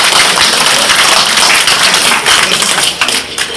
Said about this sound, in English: So let's give him a round of applause for his